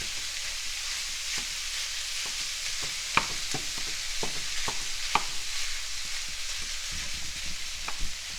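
Ground beef for bolognese sauce breaking up and frying in a pan over medium-high heat, a steady bright sizzle punctuated by sharp spatula taps and scrapes, close and alone.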